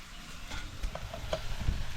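Garlic ginger paste sautés in a pan, a soft continuous sizzle under a few light scraping and stirring knocks from a spoon, heard up close with no voices.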